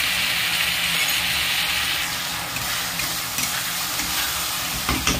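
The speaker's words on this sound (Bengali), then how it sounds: "পাঁচ মিনিট মতন কষিয়ে নেব।" Spices with salt and turmeric sauté for a rohu fish curry with pointed gourd and potato, giving a steady close sizzle with stirring scrapes and occasional light clinks, no voices.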